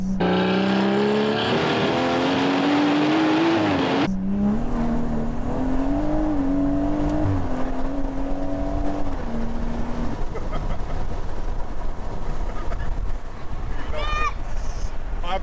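A Stage 2+ tuned BMW M140i pulls hard on the road with a loud, rising engine and exhaust note. A gear change drops the pitch, then the engine holds a steadier drone with wind noise and a few brief sharp sounds near the end.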